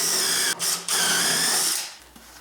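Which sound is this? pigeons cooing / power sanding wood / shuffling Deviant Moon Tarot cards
power sanding wood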